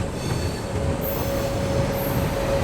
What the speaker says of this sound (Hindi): चलिए अपना अराइवल होता है गजरौला जंक्शन पे